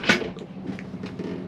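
A small toiletry cabinet door in a Swift Freestyle SE 664 caravan washroom opens or shuts with a sharp close click, followed by faint light knocks and rattles.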